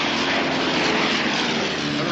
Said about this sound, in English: Never been in a light plane before.